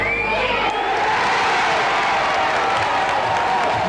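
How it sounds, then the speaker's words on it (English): Dewsbury rugby league crowd at a Challenge Cup match against Leigh roars and applauds, a dense, continuous wash of cheering and clapping that stays loud throughout, with whoops rising from the stands. "the Dewsbury crowd rises, and the Rams have the front again"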